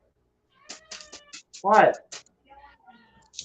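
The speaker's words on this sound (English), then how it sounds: "The cat's yelling at us." A cat meows loudly once, a drawn-out yowl close by, while people talk quietly before and after it indoors.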